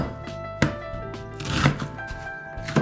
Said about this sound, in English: Now I'm gonna cut the onions.